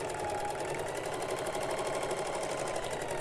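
Sewing machine stitching around a pillow made from a Christmas tablecloth, a fast, even mechanical whirr with regular needle pulses, loud, close and continuous throughout without speech.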